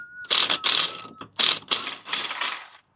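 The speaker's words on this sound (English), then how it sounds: "get the impact gun and finish that off" Impact gun rattling bolts off a McLaren in a garage, firing in several loud, closely spaced bursts of buzzing hammering with short gaps between them, close up with no talking.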